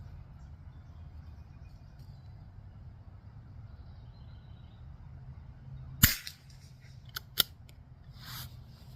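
Two sharp Ruger rifle shots crack on an outdoor range, the first louder at about six seconds and a second a moment later, each a brief loud report over quiet background hiss.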